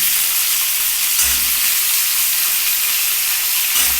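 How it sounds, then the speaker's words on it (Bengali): Beans and bottle gourd pieces sizzle steadily in hot oil, a dense continuous frying hiss with occasional stirring bumps, close and loud throughout with no voices. "এটাকে তেলের মধ্যে একটু ভেজে নিলাম"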